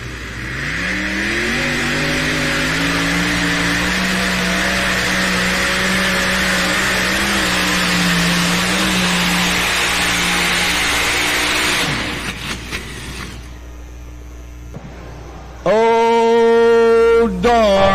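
Modified pulling tractor in the 7,500-pound modified class at a truck and tractor pull in Bowling Green, Ohio, with a loud sustained engine roar for about twelve seconds that then cuts off, followed by a short burst of high revving.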